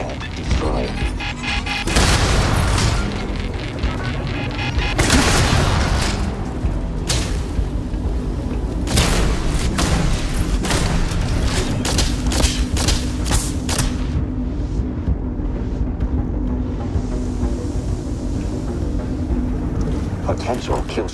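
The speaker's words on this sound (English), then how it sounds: "Begin deploying explosive pods." Explosive pods detonating in Starfield, heard as a run of sharp, loud bursts and crashes with mechanical clanks over a steady low hum, and a synthetic voice speaking in between.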